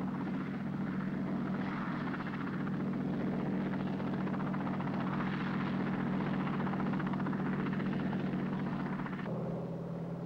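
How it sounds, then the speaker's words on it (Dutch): A helicopter aboard the Dutch aircraft carrier Hr.Ms. Karel Doorman at sea, giving a steady droning rotor and engine whine that holds moderately loud, then shifts tone near the end. "Ook de helikopters worden op zee aan boord genomen."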